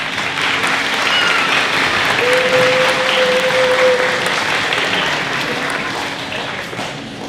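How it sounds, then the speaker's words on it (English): Sustained audience applause at a 5th grade moving-up school ceremony, a broad, steady mass of clapping from many people that swells slightly and then gradually fades. "Let's give your parents a round of applause."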